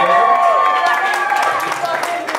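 Wedding reception guests at Shutters on the Beach, California, clap and cheer for the best man, a loud, dense wash of applause that fades slightly, with crowd voices and tonal sound mixed in.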